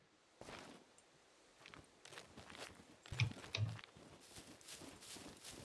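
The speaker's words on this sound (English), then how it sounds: "A donkey." Donkey hooves clip-clopping in the video game Scum, soft scattered thuds at a walking pace, quiet and close with a couple of firmer steps midway.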